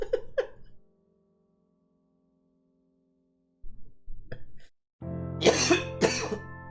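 Coughing from a streamer during a live reaction to a Nintendo Direct: a couple of short coughs at the start, a long silence, then a loud cluster of harsh, close coughing near the end.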